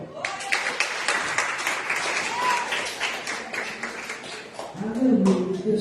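A church congregation claps during a worship service, a dense crackle of applause with a voice speaking over it and shouts near the end.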